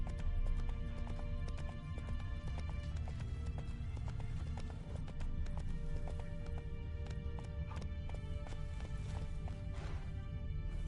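Roach, the horse from The Witcher 3, gallops with a steady rapid clip-clop of hooves, loud and close over a dense low rumble of game ambience.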